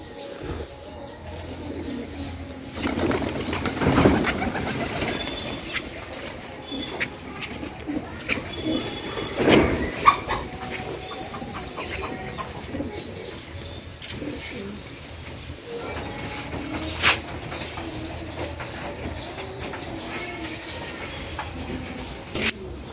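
Pigeons coo softly and steadily, with bursts of wing flapping around the four- and ten-second marks, at a moderate distance with no talking.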